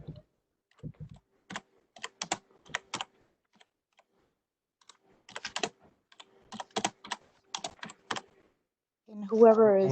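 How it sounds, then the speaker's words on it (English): Keyboard typing comes through a remote call during a city budget hearing: scattered bursts of key clicks in irregular clusters, moderately close, with a brief voice at the very end. "whoever is typing, please mute their phone"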